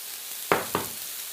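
Onions frying in a pan on an induction hob give a steady soft sizzle, broken by two quick scraping tosses close to the pan.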